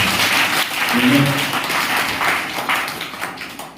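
Congregation clapping in a church worship hall, a dense steady burst of applause lasting several seconds, with a voice speaking over it early on and the clapping thinning toward the end.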